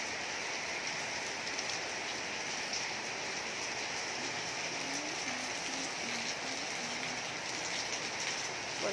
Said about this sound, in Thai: ฝนตกพรำพรำ